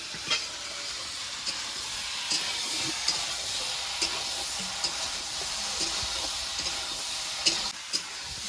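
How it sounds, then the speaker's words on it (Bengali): Ridge gourd and potato sautéing in a pan give a continuous, even hiss, with occasional faint taps and stirring scrapes, close-up and alone throughout. "ঝিঙে আলু সব কষানো হয়ে গেছে"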